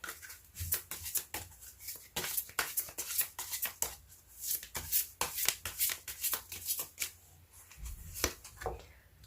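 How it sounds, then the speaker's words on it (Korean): Tarot cards shuffled by hand in rapid riffling bursts, a dense run of sharp papery clicks and flutters close up, with no talking. "제가 이렇게 셔플하다가 같은 카드가 나왔네요"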